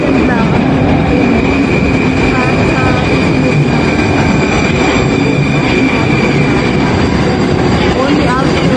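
Train pulling into a station in Russia, a loud, continuous rumble of wheels on rails with metallic squeal and clatter throughout, people's voices faintly mixed in.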